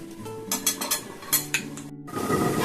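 Clinks and clatters of metal cookware ring out over a pot of tomato, poppy seed and cauliflower curry, a few sharp knocks and a settling clank as a lid goes on, then a steady low hiss.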